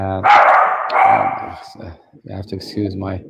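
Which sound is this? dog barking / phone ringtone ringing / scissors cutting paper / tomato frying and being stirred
dog barking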